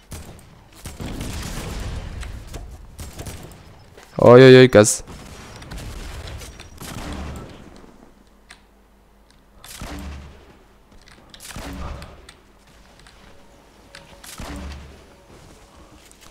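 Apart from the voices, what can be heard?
gunfire in the Fortnite video game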